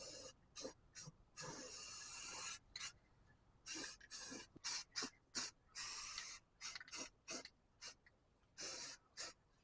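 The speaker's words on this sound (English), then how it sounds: "hit it with some rusty metal primer, get a coating on there" Rusty metal primer sprays in short repeated bursts over cleaned floor metal of a 1962 Ford Falcon, each hiss sharp and close, broken by brief pauses, with no talking.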